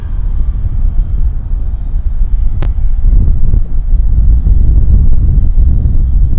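Cathay Pacific Airbus A350 departing from Sydney Airport, a loud continuous jet roar and rumble that builds slightly over several seconds, with wind buffeting the microphone.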